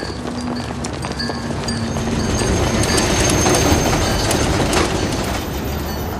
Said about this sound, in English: The next morning, we caught a tram all the way into the city.